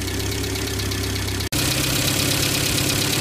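A 1994 Ford Econovan engine with a newly fitted alternator idles steadily and loudly up close, with one brief dropout midway before the even rumble resumes.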